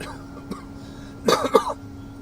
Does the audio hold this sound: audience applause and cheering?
no